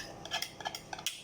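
Ingredients are stirred in a bowl for a courgette gratin, a quick run of faint scraping taps of a utensil against the bowl, close and brief.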